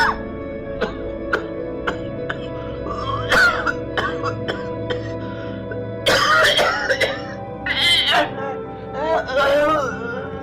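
A man with tuberculosis coughs and clears his throat in several harsh bursts, with dramatic music playing underneath and a strained, moaning vocal quality between the coughs.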